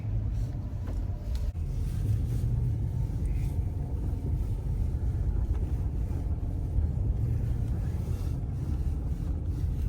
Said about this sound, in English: I'd forgotten how crazy traffic is in downtown Chicago.